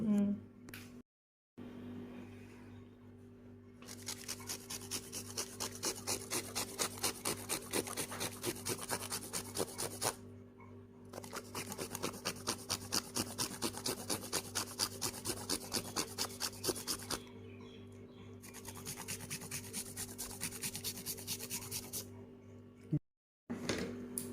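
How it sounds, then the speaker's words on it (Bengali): A bar of Cadbury Silk hazelnut chocolate is grated by hand in a home kitchen, giving a steady rhythmic rasping scrape in long runs broken by short pauses, close and fairly faint. "ও এরকম করে ঘষে দেবো"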